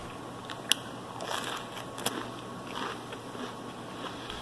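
A crunchy toasted French bread roll is bitten, giving a few soft, crisp crackles and one or two sharper crunches, fairly quiet and close with no talking.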